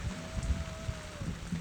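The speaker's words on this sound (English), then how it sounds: "it's better for us to be standing here in rain" Steady rain falls on an outdoor mourning-day gathering, a dense, even patter with soft low rumble throughout, moderately quiet and continuous with no voices.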